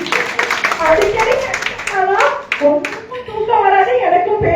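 Audience clapping at a Tamil debate event in Chennai, scattered applause mixed with overlapping voices and chatter throughout, moderately loud and close.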